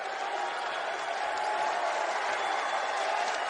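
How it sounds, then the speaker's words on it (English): A basketball arena crowd cheering during a college title game, a steady dense roar with no breaks, moderately loud and heard on its own without talk. "And listen to this crowd. They're on their feet with still 7 minutes to go in the title game."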